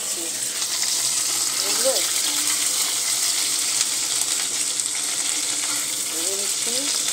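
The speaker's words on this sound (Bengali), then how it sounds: "এই যে আমি ফুলকপিটা ভেজে নিচ্ছি" Cauliflower fries in a pan with a constant, close sizzle and a hissy wash of frying noise. Someone speaks briefly over it, and there are faint bird-like chirps in the background.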